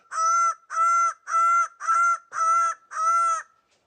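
Bird of paradise, Paradisaea apoda, giving six loud, evenly spaced honking calls close up, each about half a second long, with no other sound between them.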